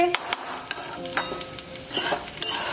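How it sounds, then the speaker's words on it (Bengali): Rice being dry-fried in a pan for a festive yellow pulao, with a spoon scraping and stirring in sharp, irregular clicks over a light, steady sizzle. "আমার চাল ভাজা মোটামুটি হয়ে গেছে"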